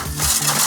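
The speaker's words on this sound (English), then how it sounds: "you place an ice cube inside your glass and you swirl it around" An ice cube drops and rattles inside a chilled cocktail glass, a quick bright clinking scrape over less than a second, close and fairly loud.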